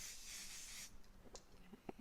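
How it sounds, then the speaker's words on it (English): Adhesive spray aimed at the back of quilt fabric, a steady soft hiss lasting about a second before it stops, followed by a few faint handling taps close by. "I'm going to spray the back of this with my spray"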